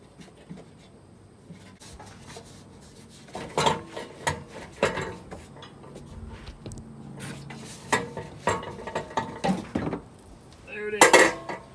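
Metal clanks, scrapes and knocks as a rear muffler is pulled off a Subaru WRX STI exhaust during installation, irregular handling noises building toward louder bangs near the end, with a little muffled talk.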